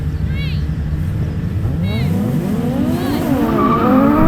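Audi Quattro launching off the line in a drag race, engine roaring hard and rising as tires squeal in repeated sharp chirps, another car audible nearby, continuous and close.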